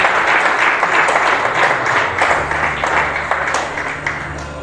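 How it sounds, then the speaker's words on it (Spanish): A church congregation applauding: loud, busy clapping from many hands that slowly tapers off, with a low sustained tone coming in partway through. "aplauda para Dios con libertad"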